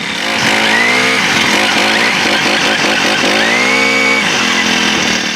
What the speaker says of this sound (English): Start up just like that.